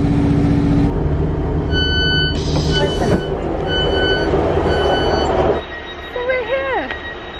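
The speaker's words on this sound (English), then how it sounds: "Our walk starts with a little short train ride." A train on the Truro to Falmouth branch line in Cornwall rumbles along the rails with a steady mechanical drone, brief high squeals of wheels, and a few tonal beeps near the end.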